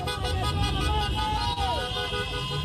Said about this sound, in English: I'm gonna honk my horn so you guys let me drive back home peacefully.